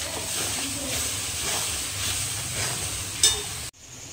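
A steady hiss of ginger-garlic paste sizzling in hot oil in a pan, with occasional stirring scrapes, before the sound cuts off abruptly near the end.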